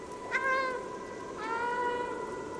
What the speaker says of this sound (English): That's my meow.